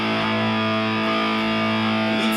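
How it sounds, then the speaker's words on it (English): Electric guitar through a tube screamer feeding a distortion pedal, heard as a sustained, heavily saturated chord that rings steadily and loud, alone with no voice. "if I turn on the tube screamer in front of the distortion pedal"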